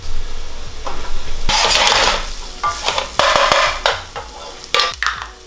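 Garlic, ginger and scallion bottoms sizzle in a pan for agedashi tofu, with loud scraping stirs and clattering bursts breaking up a steady frying hiss.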